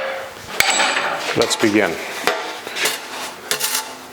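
Shoe hammer striking a metal grill being shaped for a 1956 Chrysler Windsor 300 tribute, with its radiused, softened ends; several sharp metallic taps ring out at irregular intervals, close and clear, with brief speech at the start.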